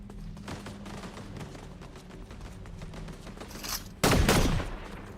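Gunfire in Fortnite crackles as a rapid fusillade of shots throughout, ending with one louder, heavier blast near the end.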